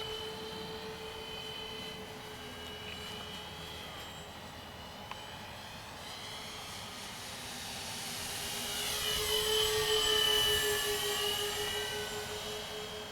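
An Avios Kingtwin 1700 RC model plane engine drones with a steady high whine in the distance, then swells louder as it passes close on a scale flyby and fades again.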